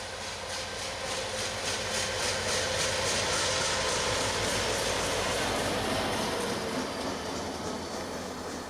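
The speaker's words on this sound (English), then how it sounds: "local A731 shows up again, this time heading back south to Oglethorpe Yard, engine light with a SD40-3" An SD40-3 diesel locomotive running light engine with no train, a steady low engine rumble and broad noise holding constant throughout at moderate distance.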